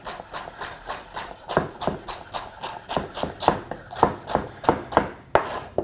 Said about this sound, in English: We'll start off with some celery. I'll just chop into cubes.